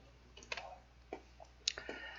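Ctrl+8 keyboard shortcut pressed on a computer keyboard during CAD sketching, a few light, close clicks spread unevenly over a couple of seconds with no talk.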